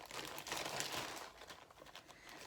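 A large plastic bag holding a cross stitch project crinkles softly and continuously up close, with a burst of rustling handling that eases off toward the end.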